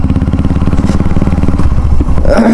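A motorcycle engine runs loud and close while setting off on a short ride, a throbbing, pulsing exhaust note with rattling clatter that rises slightly toward the end.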